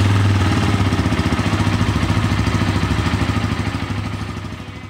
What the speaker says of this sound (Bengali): ইঞ্জিনের সাউন্ডটা রোরিং একটা সাউন্ড হয়ে যায়